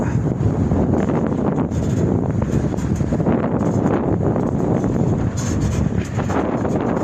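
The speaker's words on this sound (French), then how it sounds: "Il y a une quinzaine de nœuds de vent, peut-être par moment un peu plus." Steady wind of about fifteen knots roars loudly across the microphone on a sailboat under full sail. The rush is dense and continuous, with a faint wash of water beneath it.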